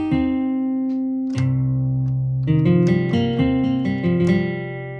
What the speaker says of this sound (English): And so an acoustic guitar can sound like this.